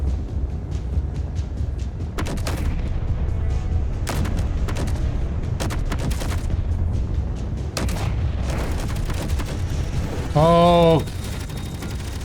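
Space Engineers combat rattles with sustained rapid gunfire and heavy booming impacts that continue almost without pause, and a voice briefly exclaims near the end.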